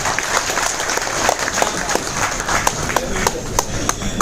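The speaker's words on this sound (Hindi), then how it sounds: "उनके लिए जबरदस्त ताली" An audience at a business talk breaks into sustained applause with crisp, dense clapping, and voices murmur faintly underneath.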